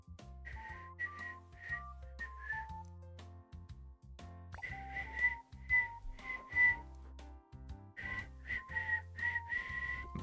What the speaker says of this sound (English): I'm still learning to whistle